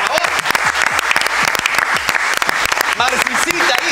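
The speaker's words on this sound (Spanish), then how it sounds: "Un aplauso para ella, por favor." Audience at an awards ceremony breaks into loud, dense applause, continuous clapping from a crowd nearby, with voices talking and calling out over it.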